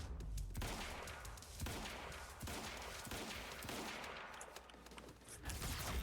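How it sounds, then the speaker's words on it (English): Gunfire aimed at explosive barrels in the game Quantum Break, heard as dense, repeated shots in rapid bursts through the whole stretch, fairly faint and sitting in a busy game mix. "Right, you have to really shoot them."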